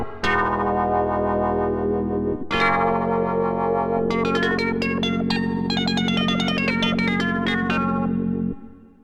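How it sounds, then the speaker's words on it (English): Filtrus Funkium, a synth patch built in the Dexz synthesizer, plays as a loud, buzzy, distorted chord sound with a chorused, echoing quality, restruck after a short pause and then overlaid with a fast run of bright stabbing notes. "This is a sound called Filtrus Funkium."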